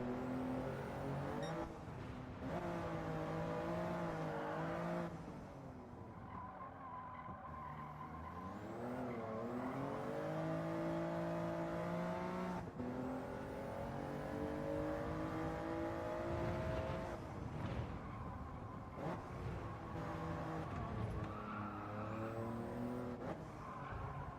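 Race car engine in Gran Turismo 7 revving and shifting through gears, with skidding tire noise as the car runs wide, loud and continuous throughout with rising and falling pitch sweeps.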